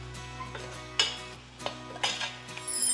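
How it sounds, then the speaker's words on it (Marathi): Masala paste and onions sautéed in a pan, a spoon stirring and scraping in short strokes, with faint sizzling underneath and a steady low hum in the background. "हे छानपैकी परतून घ्यायचं आहे कांद्यासोबत."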